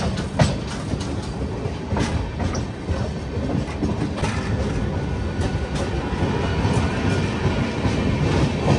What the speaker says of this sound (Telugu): నాసిక్ వెళ్తుంది ట్రైన్.